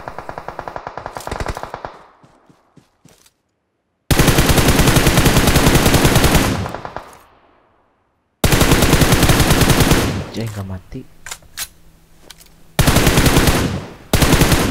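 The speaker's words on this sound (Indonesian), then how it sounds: "Di kiri kita tadi ada tembakan ya" Rapid bursts of automatic gunfire in PUBG Mobile, in several loud volleys separated by short pauses, with a brief spoken line between bursts.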